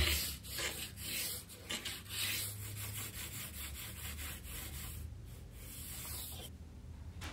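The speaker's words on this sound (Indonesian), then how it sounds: "Kemudian kita amplas, miring atau tapering" Sandpaper rubs on a small piece of wood to sand it to a taper, in a series of quiet back-and-forth scratching strokes with a soft, close, dry rasp.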